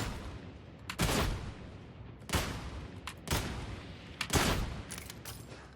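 A surgical lasgun in the Darktide video game fires sustained volleys, heard as three or four dense, loud bursts of rapid shots with short gaps between them and no voices.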